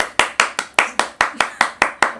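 Hand clapping in a steady run of about ten sharp, evenly spaced claps, close and fairly loud, with no talking over it.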